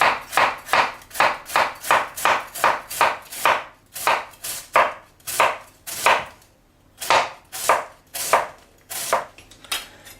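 A knife slicing food thinly on a board in a home kitchen while making pork fillets with apple cabbage, giving crisp, even cuts in quick succession with a short pause midway, close and clear with no talk.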